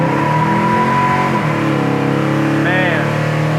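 A 1969 Chevelle revs hard under acceleration, its engine climbing toward 6,000 RPM shifts, loud and close inside the cabin with a steady roar that holds throughout.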